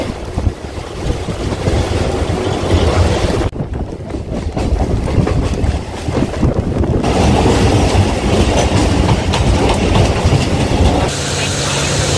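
A Howrah to Sealdah local commuter train near Dum Dum station rumbles along with a loud, steady roar of wheels and carriages, heavy wind buffeting, and shifts in tone as it passes through different stretches.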